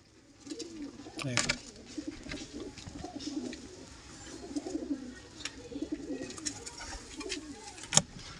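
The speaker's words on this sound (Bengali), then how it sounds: "দেখুন একদম শর্ট সাইজের পায়রা।" A breeding pair of short carrier pigeons coo softly and repeatedly at close range, with occasional scratches and clicks around them.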